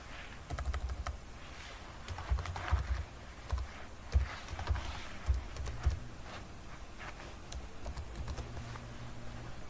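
A password being keyed in on a computer keyboard during Fedora Workstation 29 setup, with bursts of quick close clicking keystrokes and short pauses between them, over a low background hum and no speech.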